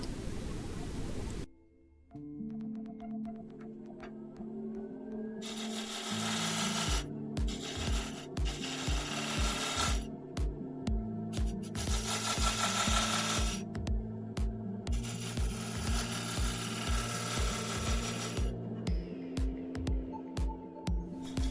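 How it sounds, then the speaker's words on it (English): Wood turning on a lathe, a diamond scraper shaping the spinning wood into beads and coves, producing loud, close rasping scrapes in repeated bursts over a steady motor hum and rhythmic ticking, with no talk. "the diamond scraper excels in emphasizing the shapes and creating embellishments"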